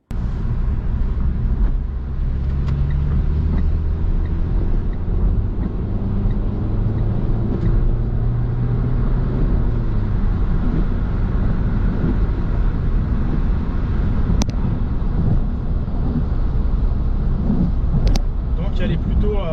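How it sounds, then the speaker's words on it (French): Renault Megane 3 Phase 1 1.5 dCi 110 hp diesel from 2011 accelerating in third gear, a steady loud engine drone with rising low rumble and wind noise inside the cabin throughout. "On va pouvoir aller tester la capacité de reprise de cette voiture."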